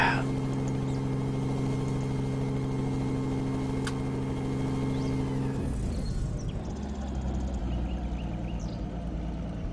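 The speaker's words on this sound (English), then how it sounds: "engine's warmed up, so let's go ahead and engage the blades" A vehicle engine in Machine World 2 runs steadily with a low droning hum that shifts pitch partway through, continuous and fairly close.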